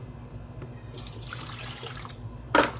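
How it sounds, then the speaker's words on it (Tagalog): Tap water runs into an electric kettle being filled, a steady soft rush that swells briefly into a louder splash near the end. "Lagyan muna natin ng tubig."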